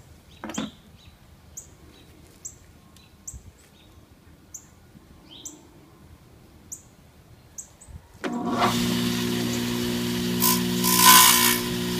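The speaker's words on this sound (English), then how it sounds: "cut a bunch of small lines close to each other and then shave that off using the tile blade" Quiet with faint ticks and chirps, then a tile saw with a cutting blade roars up loudly and runs steadily as it bites into hard tile, swelling briefly near the end.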